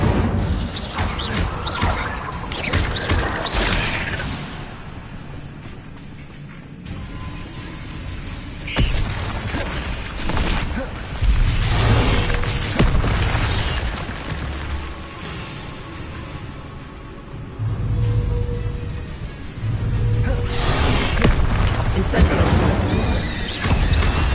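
Magic spells are cast in the Hogwarts Legacy video game: loud whooshes, bursts, booms and crashing impacts follow one another, with shouted voices over much of the action.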